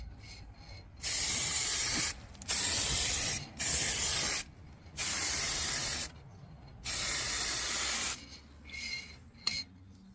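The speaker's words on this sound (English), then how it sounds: "Now the trick with this is to press, release, press, release. So then you get a nice even coat." Spray can painting HGV truck side steps, five bursts of loud hissing spray in a press-and-release rhythm, each lasting about a second, separated by short quiet gaps.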